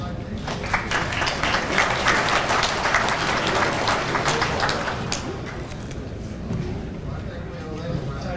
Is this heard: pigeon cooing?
no